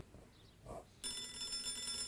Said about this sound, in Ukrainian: Це його телефон. До нього дзвонять.